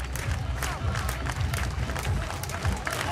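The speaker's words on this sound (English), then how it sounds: "the crowd are behind him" A crowd at the UCI Trials World Cup superfinal in Aalter roars and claps for a rider, a dense, continuous wash of cheering and applause with a voice faintly underneath.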